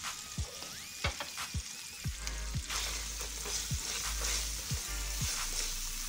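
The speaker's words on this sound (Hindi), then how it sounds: "मसाले को भूनेंगे कीमे में अच्छी तरह।" Keema, minced meat, frying with whole spices, chili powder and whole coriander in a pan, giving a steady close sizzle with repeated scraping stir strokes throughout, with no talk.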